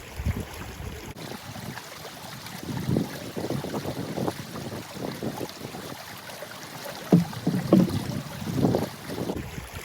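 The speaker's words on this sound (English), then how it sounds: "and immerse the can in the water" Gurgling, sloshing water and wind rumble as a can is pushed under the surface of an outdoor water source and fills, a close, uneven burbling that lasts several seconds with no talking.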